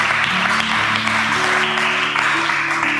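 Church congregation clapping together for Jesus during a youth sermon, dense steady applause filling the whole moment with a faint sustained musical tone underneath.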